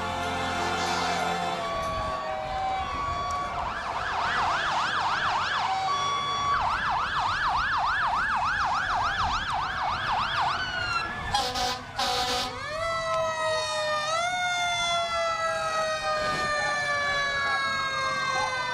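Fire engine sirens from a fire and rescue division passing in an evening holiday parade, loud wailing and yelping tones rising and falling, then a short horn blast followed by sweeping wails, heard outdoors amid crowd ambience.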